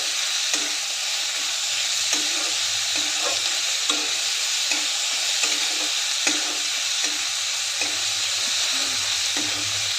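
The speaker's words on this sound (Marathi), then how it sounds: "दोन मिनटं परतून घेऊया, म्हणजे भाजी लवकर शिजते." Fresh green chickpeas and garlic sautéing in a pan, a loud continuous sizzle under regular scraping strokes of a spoon stirring the mixture, close and steady for the whole stretch.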